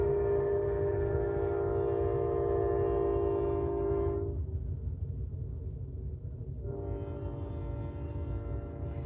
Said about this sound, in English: Hey, there's another train, guys.